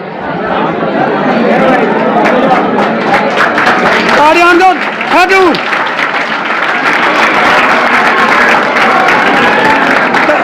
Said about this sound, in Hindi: तालियां रुकनी नहीं चाहिए, जोर से और जोर से